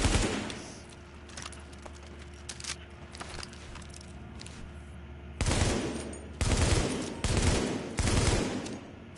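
AK and L86 rifles fire at a firing range in The Division video game: sporadic lighter shots at first, then several loud, rapid automatic bursts close together in the second half.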